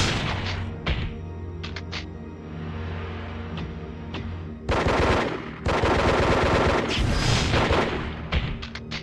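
Rapid automatic gunfire and heavy impact booms from the first-person shooter game Disruptor, bursts of loud close shots separated by short pauses, with denser sustained volleys in the second half.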